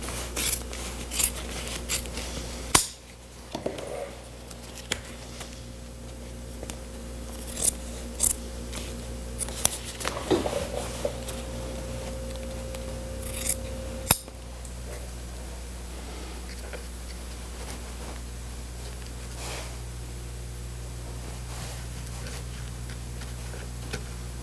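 Scissors trim excess cover material from a Ford Model T sun visor, giving soft, intermittent snipping and ticking cuts close by with faint rubbing in between, over a steady low hum and no talking.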